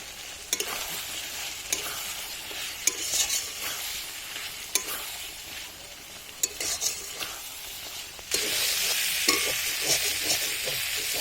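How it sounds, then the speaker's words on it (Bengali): Meat with meat masala and a little water frying and sizzling in a pan while being stirred, with steady scraping and clinking strokes throughout, the sizzle growing louder near the end; no one speaks. "মাংসের তলায় লেগে যাচ্ছে, ভালো করে কষানো হয়ে গেছে, ততক্ষণে ফুটছে আর তেল ছাড়তে শুরু করেছে"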